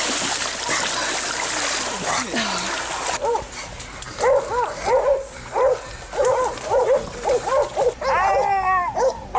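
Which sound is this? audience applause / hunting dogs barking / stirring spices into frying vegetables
hunting dogs barking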